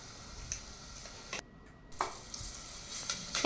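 Ginger paste and turmeric fry in a pan as a spice tempering, with soft sizzling and scattered sharp crackles and stirring clicks, close and fairly quiet, briefly dropping out before resuming.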